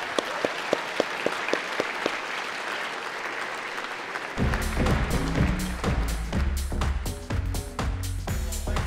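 Students at the Ravensbourne awards show are applauded by an audience: a few sharp isolated claps at first, then a sudden full burst of dense, loud applause that carries on steadily to the end.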